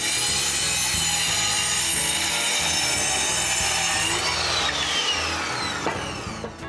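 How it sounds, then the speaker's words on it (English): Wooden rafters for a firewood carport being sawn to length with a power saw, a steady loud cutting drone with rising whine throughout, no talk. "They need to be cut to the right length."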